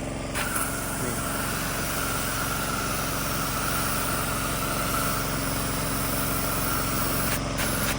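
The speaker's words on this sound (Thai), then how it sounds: "พอเราปล่อยปุ๊บเครื่องก็จะนิ่ง แล้วน้ำก็จะวน น้ำก็จะนิ่งครับ เครื่องเนี่ยนิ่งเลยไม่มีปัญหาอะไรครับ" A PAYOO TGF-220A three-cylinder sprayer pump driven by a 6.5HP engine runs steadily and loudly, a constant close engine drone with pump whine and no change in pitch.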